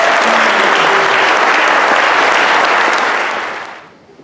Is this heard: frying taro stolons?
no